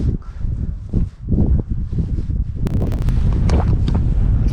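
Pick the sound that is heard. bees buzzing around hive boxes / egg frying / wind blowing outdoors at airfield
wind blowing outdoors at airfield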